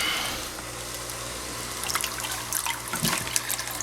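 Steady rushing and splashing of running water during a daily rotifer tank water change, continuous throughout, with bubbly bursts picking up toward the end.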